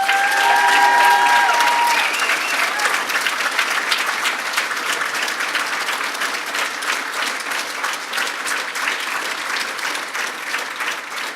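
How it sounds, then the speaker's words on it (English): Audience at a school awards ceremony applauding students: loud, dense clapping from a large crowd, with a few brief whistles or cheers at the start, continuing steadily and easing slightly over several seconds. "this next round of applause that's going to be even louder than what you just heard"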